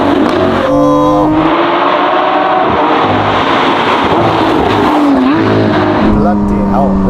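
A Novitec-tuned Lamborghini Aventador Ultimae Roadster V12 roars loud and close, revving up through rising gear pulls with sharp shifts, a dense continuous engine wail.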